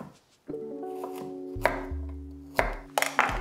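A knife slices carrots into round medallions on a board, a few separate crisp cuts and thuds over a quiet, hollow room tone.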